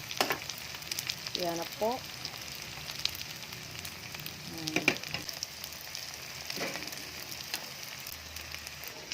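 Lumpia frying in a home-kitchen pan, a steady crackling sizzle running throughout with brief clatters, while a person speaks briefly over it.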